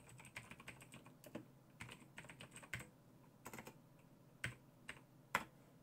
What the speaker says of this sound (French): je sais pas écrire avec mon clavier